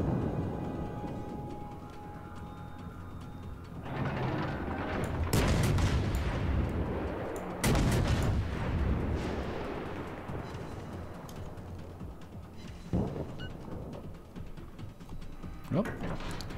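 Warship secondary battery guns firing in World of Warships: several heavy booms arrive at irregular intervals over a steady rumbling sea-and-engine bed, with a voice talking in the background.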